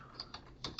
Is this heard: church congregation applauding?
no